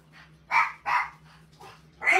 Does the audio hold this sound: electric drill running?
no